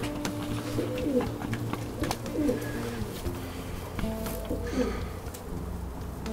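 A young racing pigeon coos in repeated soft, throaty phrases, about three bursts spaced a couple of seconds apart, close by over steady low background noise.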